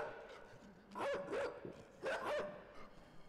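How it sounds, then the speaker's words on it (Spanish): Dogs bark in the video game INSIDE, two separate bursts of several sharp barks each, loud and fairly close over a low, dark ambient background. "Uy, los perros, tío. Nos estarán vigilando los perros ahora"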